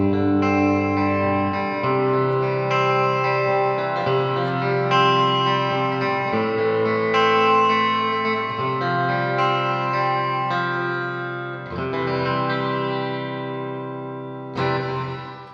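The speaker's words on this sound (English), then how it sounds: "And here is just the reverb with the flanger mode." Old Blood Noise Endeavors Procession reverb pedal in flanger mode, sustained guitar chords washing in a loud, continuous swirling reverb with sweeping modulation, new chords struck every couple of seconds and a fresh strum near the end.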